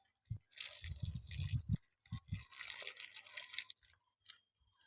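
Water splashing and dripping as potted plants are watered at home, coming in irregular close bursts with quieter gaps between pours.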